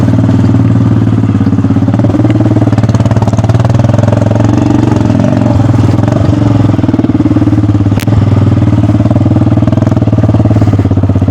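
A motorcycle engine idles steadily and loudly up close while the bike is being parked, a continuous low rumble with a brief click near the end.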